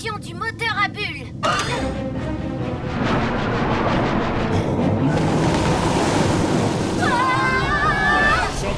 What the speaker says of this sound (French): Inversion du moteur à bulles.